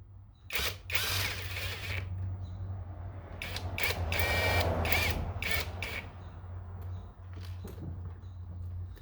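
Hand tool work on a Seadoo 787 engine top end rebuild, with short bursts of wrench or ratchet tightening bolts in a torque sequence over a steady low hum, close and fairly loud with pauses between passes.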